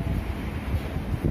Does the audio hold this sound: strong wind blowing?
yes